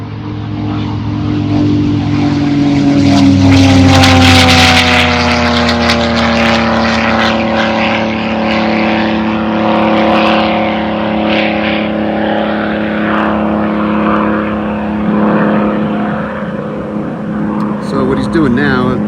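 A Thunder Mustang air race plane with a low-revving 12-cylinder engine takes off at full power, a loud, continuous throbbing drone whose pitch climbs and shifts as it accelerates away, with someone talking over it.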